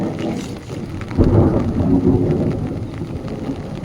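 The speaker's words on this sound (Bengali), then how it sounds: "মেঘ ডাকছে।" Thunder rumbles deep and loud during a heavy rainstorm, rolling on under the steady hiss of rain falling on surfaces close by, swelling strongly partway through.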